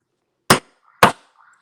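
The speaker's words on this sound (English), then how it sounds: "I'm just going to bang on it to crack it." A heavy pair of scissors bangs twice against an object to crack it, two sharp, loud knocks about half a second apart, each followed by a faint rattle.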